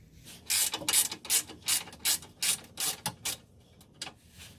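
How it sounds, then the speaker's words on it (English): A ratchet wrench loosens oil pan bolts underneath a Pontiac GTO (Holden Monaro), giving about a dozen loud, close bursts of rapid clicking in an even rhythm, with no talking. "So I'm just gonna loosen them all up."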